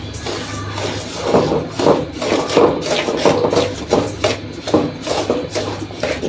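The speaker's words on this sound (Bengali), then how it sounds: "সুজিটা ভেজে নেই।" Dry semolina being roasted in a pan, a spatula scraping and rubbing against the metal in quick, uneven strokes, close and moderately loud.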